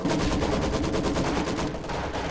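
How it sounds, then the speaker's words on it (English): A mortar barrage fires in a video game as a dense, loud run of rapid blasts, one on top of the next, with no pauses over the short stretch. "Okay, time to stop the mortar barrage. Oh, still firing."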